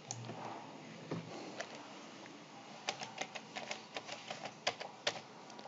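Keys tap on a computer keyboard as a password is typed: a quiet, uneven run of light clicks, sparse at first and then quicker and denser near the end.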